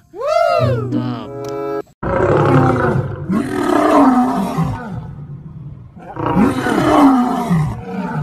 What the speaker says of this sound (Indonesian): Wadidaw, singa.